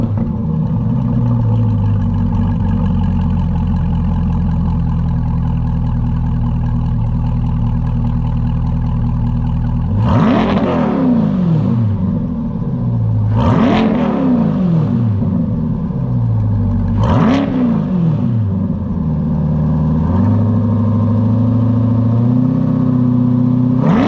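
A Chevrolet C8 Corvette with a Corsa Xtreme exhaust idles with a deep, steady burble, then revs sharply three times in loud rising and falling blasts, and settles back to idle, close and alone.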